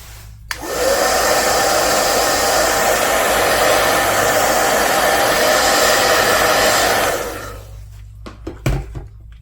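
A hair dryer blows steadily and loud at close range for about six seconds to dry craft paint on a greenery background, then cuts off, followed by a few light knocks and handling sounds.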